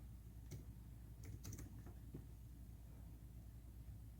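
A computer keyboard is tapped in a few quick, faint keystrokes over a low background hum, then falls still.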